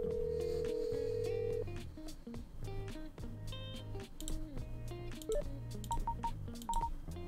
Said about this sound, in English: I'll give her a ring.